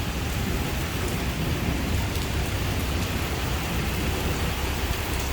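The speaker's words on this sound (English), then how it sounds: "We have thunder, we have lightning" Rainstorm in Benidorm with thunder, a thick unbroken wash of heavy rain close by, with low rumbling beneath the steady downpour and no voices.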